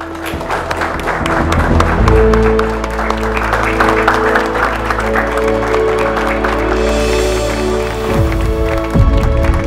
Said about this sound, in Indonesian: Beri tepuk tangan untuk mereka berdua